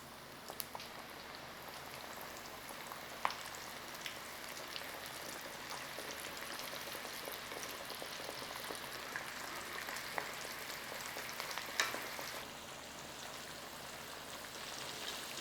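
Mini onion bhajis sizzle steadily in hot oil at about 170 degrees, a quiet, continuous crackling hiss with occasional louder pops and no talking.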